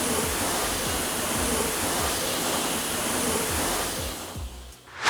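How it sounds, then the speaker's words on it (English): Water sprays onto a V6-swapped Toyota MR2 SW20, rinsing foam off the car in a dense, steady hiss, close and loud, before the spray cuts off near the end. "we'll rinse this off"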